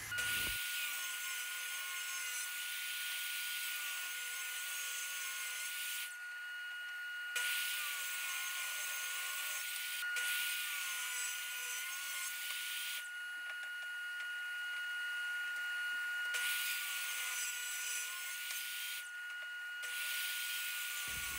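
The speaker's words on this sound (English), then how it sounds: "I then set my table sawed 2¾ inch wide and then ripped as many strips as I could per board." A table saw rips wood boards into 2¾-inch strips for hexagon shelves, sustaining a loud, steady whine throughout with short dips between passes, heard alone without speech.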